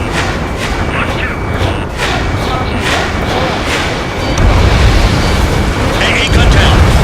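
Explosion of a destroyed anti-aircraft gun in the flight combat game Ace Combat 7, a loud rumbling blast layered over continuous jet and battle noise, swelling heavier in the second half.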